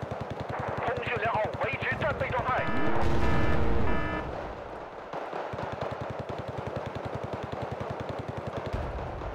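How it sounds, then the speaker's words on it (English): Gunfire and a mortar shot ring out in the video game Wargame Red Dragon as a tank is targeted, with rapid bursts and a loud blast in the middle, under a player's talk. "Tank at 1 HP, I wanna kill it with the mortar."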